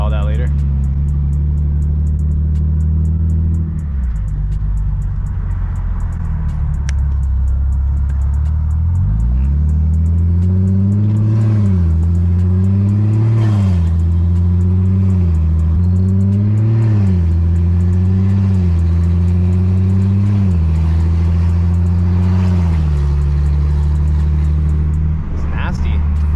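A BMW 340i xDrive with a top-mount single turbo kit, not yet fully tuned, drives with a deep rumbling engine that idles, then revs up and down in repeated surges, loud and close inside the cabin.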